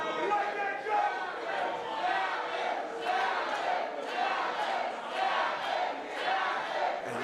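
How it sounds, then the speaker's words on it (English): A wrestling crowd at an Invictus Pro Wrestling event in St. Helena roars and chants steadily, a dense wall of cheering with rhythmic swells of shouting, loud and continuous across the whole stretch. "And you hear this crowd here in St. Helena is firmly behind PJ Savage."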